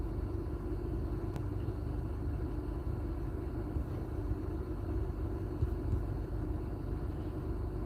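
A car being driven, heard from the interior as a steady, fairly quiet low rumble of road and engine noise that continues without change.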